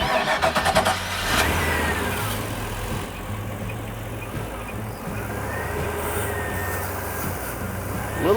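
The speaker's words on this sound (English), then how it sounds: "I'll have Tanya start the engine" A railway vehicle's engine cranks and starts at the Nevada Northern Railway, then settles into a steady, fairly loud idle with a low rumble, some rattling, and a slight rise in revs near the end.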